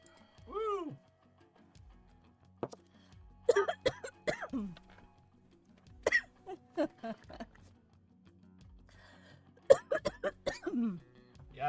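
A series of short, rough coughs in scattered bursts, fairly close, with some throat clearing between them and a little background noise.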